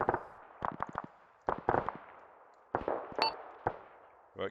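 Scattered gunfire in a video game battle during an operation in Operation Deadstick: Reloaded: sharp single shots and short bursts at irregular intervals, moderately loud, some sounding closer and others farther off, with no talk over them.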